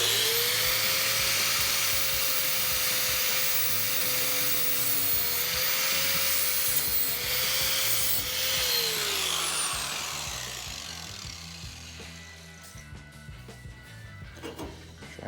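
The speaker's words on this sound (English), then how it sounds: "So I'm just gonna hit that with the flap wheel real quick." A flap wheel on an angle grinder grinds the edge of a rocker panel on a Ford Dentside truck, a loud close whine with a harsh abrasive hiss that spins down and fades near the end.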